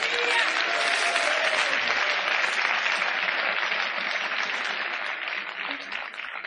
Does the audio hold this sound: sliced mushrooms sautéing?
no